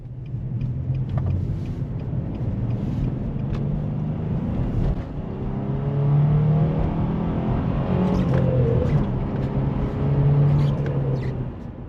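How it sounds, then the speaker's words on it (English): Manual Nissan Xterra engine heard from inside the cabin, a low rumbling drone that climbs in pitch as it revs, drops off at gear changes and builds again, with no talk over it. "show off the a bit underwhelming acceleration, but still enjoyable movement to rev the engine out and shift some gears"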